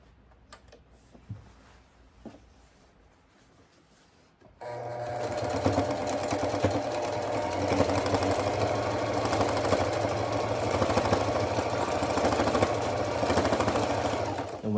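A sewing machine back stitching jeans starts up after a few quiet handling clicks and runs steadily and loudly, a continuous rapid mechanical whir with a low motor hum.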